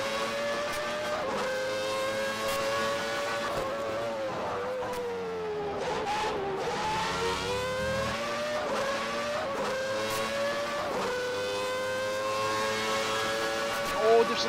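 Williams Formula One car in a racing video game, its high-pitched engine whining steadily and rising and falling through gear changes as it runs on track, with a brief dip midway and voices talking over it.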